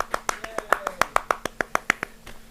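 A small studio audience claps for Pat on a late-night comedy show: a quick, sparse run of about fifteen crisp hand claps, close and fairly loud, with faint voices underneath.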